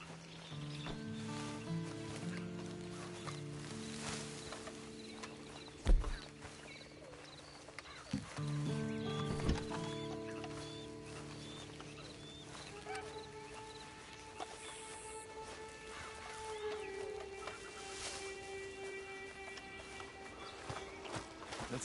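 A horse in Red Dead Redemption moves with soft hoof clip-clops and snorts amid game ambience and tonal music, with a couple of sharp knocks standing out; sounds sit fairly low in the mix.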